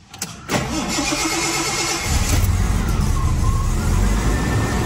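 A Jaguar inline-six engine cranks and catches after a brief click, then settles into a steady, smooth idle that stays loud and close, with no talking.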